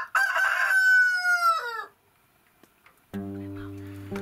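A village rooster crows loudly and close in one long rising-then-falling call, followed by a pause and then a low, steady droning sound from another source.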